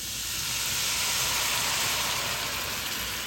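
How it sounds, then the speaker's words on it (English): A quarter cup of Woodbridge Chardonnay white wine hits a hot pan while cooking shrimp and grits, giving a steady, loud sizzling hiss that holds evenly throughout. "I'm probably put about a 1/4 cup of white wine in there"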